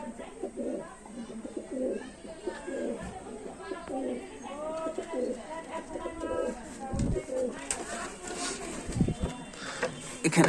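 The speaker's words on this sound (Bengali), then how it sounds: "এখানে একটা টেডি পায়রা আছে" Teddy pigeons in a loft coo in steady, rolling calls, close by and fairly loud, while other birds chatter in the background.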